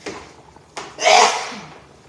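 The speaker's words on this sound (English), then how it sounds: "I'm gonna sneeze." A single sharp sneeze bursts out after a brief intake and a soft thump, loud and close, then trails off into quiet.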